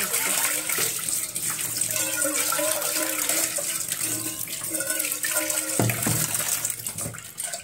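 Tap water runs into a sink as rice is rinsed in a home kitchen, a steady close splashing stream with shifting gurgles and a brief louder splash late on, no talking.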